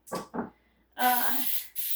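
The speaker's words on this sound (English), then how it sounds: "Spray all around the pan." Baker's Joy baking spray hisses from an aerosol can into a baking pan, two short bursts followed by a long, close spray and a final shorter burst.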